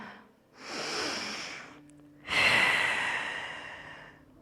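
Two long, deep breaths taken while holding a Pilates stretch for lower back stiffness: a slow, airy draw, a short pause, then a stronger, louder breath that fades out gradually, close and clear.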